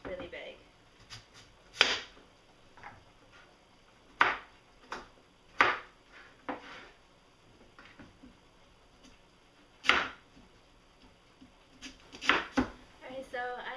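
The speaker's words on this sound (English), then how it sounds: "you're going to chop them into similar sized pieces" A knife chops a large yam into similar-sized pieces on a cutting board, with sharp, irregular thunks spaced a second or two apart, close up, while a person talks quietly in between.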